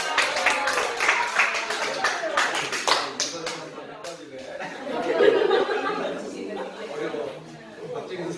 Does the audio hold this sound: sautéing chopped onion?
no